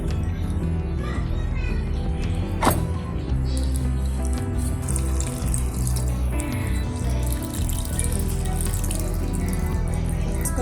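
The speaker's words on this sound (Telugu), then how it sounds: "కొన్ని వాటర్ పోసి ఇట్లా కలిపేసి చేప ముక్కలు మునిగేంత వరకు వాటర్ పోసుకోవాలి" Water poured into a pan for a fish tamarind curry, a steady running-water wash with a sharp knock partway through, heard close and continuous beneath faint background voices.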